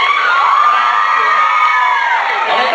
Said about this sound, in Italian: Un applauso per il presentatore.